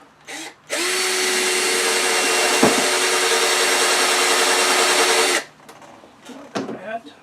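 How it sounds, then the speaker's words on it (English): A power drill whirs steadily for several seconds as it bores into wood, loud and close, with brief voices before and after. "and we'll drill a hole"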